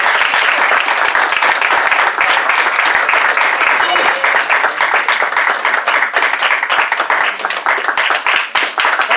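Dense applause at a Toastmasters breakfast club meeting, close and loud at first, then thinning into scattered individual claps as it tapers off.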